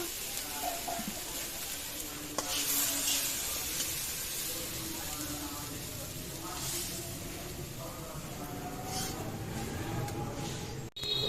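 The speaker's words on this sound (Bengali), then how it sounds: "চাল কুমড়ার শাক ভাজি কিন্তু ভাজা একবারে রেডি হয়ে গেছে" Chal kumra (ash gourd) leaves sizzle and hiss in a hot pan, a steady crackling fry with occasional scrapes, close by.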